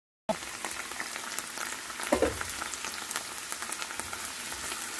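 Onion and carrot fry in a pan with a soft, continuous crackling sizzle, joined by a brief stirring clatter partway through, fairly quiet and with no voices.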